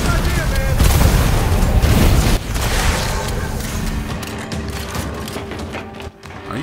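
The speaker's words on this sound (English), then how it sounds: "Are you coming at me with shotguns?" Shotgun fire in the Gears 5 video game, loud dense booming blasts and mechanical clatter filling the whole stretch, with frantic game action and no clear speech.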